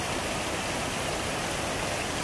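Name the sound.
waterfall at Laktas Falls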